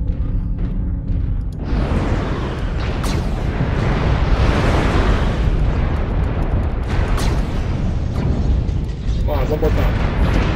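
LRM missile salvos in MechWarrior Online launch and burst in a dense, continuous roar of rumbling explosions and mechanical thuds, loud and close, with a player's voice speaking briefly over it.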